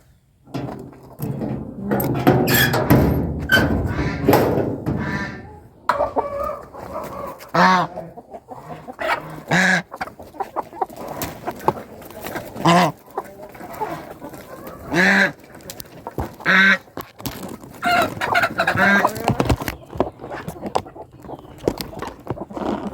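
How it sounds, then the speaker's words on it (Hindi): Chickens cluck and squawk in a busy, uneven chorus close by, with occasional louder honking calls and bursts of commotion throughout. "तो चलिए जल्दी से अब मुर्गियों को बाहर निकाल"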